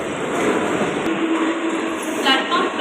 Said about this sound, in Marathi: प्लॅटफॉर्म क्रमांक 2 वर आलेली लोकल 4 वाजून 12 मिनिटांची मुंबई छत्रपती शिवाजी महाराज टर्मिनस जाण्यासाठी